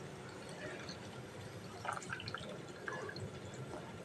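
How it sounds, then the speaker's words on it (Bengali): Water is poured into a pressure cooker holding dal, vegetables, turmeric, mustard oil and chili, giving a quiet trickle with a few faint splashes and drips over low room noise. "এবার জল দেবো পরিমাণ মতন"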